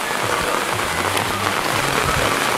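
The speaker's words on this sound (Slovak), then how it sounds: "Začalo nám pršať." Rain begins falling at a new home in Kenya, a dense, even hiss of drops striking surfaces close by, with no voices, steady throughout.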